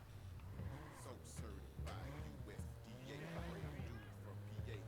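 Video game car engine hum with shifting revs and tire noise, playing under ongoing talk.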